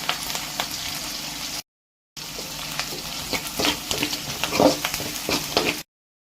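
Eggplant thokku mixture with curry leaves being stirred in a pan over oil, a steady sizzle broken by repeated scraping strokes, loud and close, with two short silent gaps.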